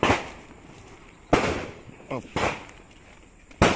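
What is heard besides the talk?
gunshots from people practicing shooting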